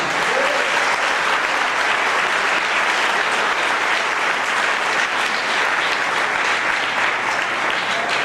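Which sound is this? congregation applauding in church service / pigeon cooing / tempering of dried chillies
congregation applauding in church service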